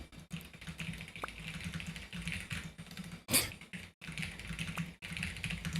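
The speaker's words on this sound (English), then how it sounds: "I was about to start typing" Fast, steady clicking of keys on a computer keyboard continues throughout, close and fairly quiet, with one sharper louder tap partway through and a couple of brief pauses.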